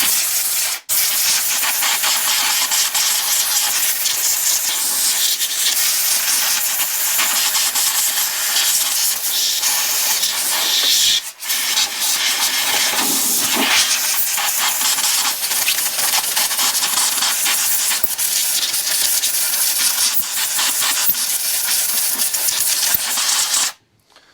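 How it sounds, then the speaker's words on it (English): A compressed-air nozzle blasts a steady, loud hiss while blowing debris off a Mountfield lawnmower part, nearly continuous for over twenty seconds with only brief interruptions, close to the microphone. "get my air compressor. I literally just want to blow that off"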